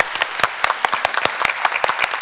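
An audience in a church TV show studio applauds a family, giving dense, lively clapping with crisp individual claps throughout.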